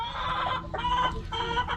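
Rhode Island Red chickens, three to four months old, cluck in a busy run, with short overlapping calls close by over a steady farmyard background.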